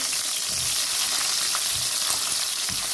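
Capsicum is tipped into a pan of frying vegetables for a vegetable korma, producing a dense, continuous hiss of oil with a few faint soft stirring bumps underneath, close and steady throughout, no voices.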